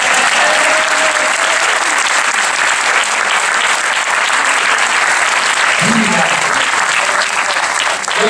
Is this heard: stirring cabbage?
no